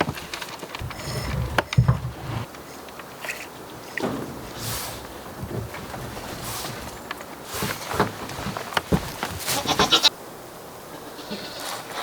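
Goats bleat on an Alaska homestead in scattered, fairly faint calls over a few seconds, with a soft outdoor background between them.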